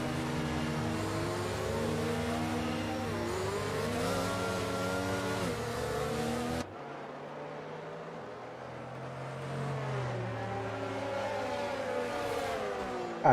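Several race car engines in a sim racing video game's French Grand Prix run steadily, their gliding, revving tones layered together; the mix shifts abruptly midway to a thinner, more distant engine drone, with no talk.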